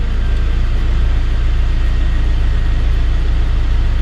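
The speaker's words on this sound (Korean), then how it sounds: "다시 디젤 차량 엔진 상태," A diesel engine in an All New Pride (Kia) used car idles loud and close, a steady low rumble with an even, unbroken pulse and no talk over it.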